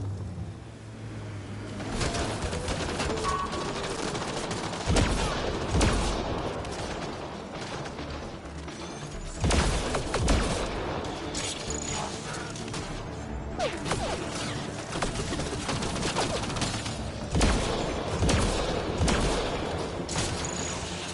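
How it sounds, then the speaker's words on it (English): Heavy weapons fire in the video game Mass Effect Andromeda: sustained rattling bursts and repeated heavy booms that swell and recede over about twenty seconds, loud and dense without speech. "Pathfinder, I detect heavy weapons fire nearby."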